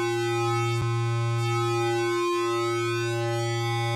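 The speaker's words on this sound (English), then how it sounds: "Switch off that and go into the second oscillator." Behringer DeepMind 12 polyphonic synthesizer with only its second oscillator sounding, a steady sustained tone rich in even harmonics that holds loud and unchanging throughout, with a brief click near the start.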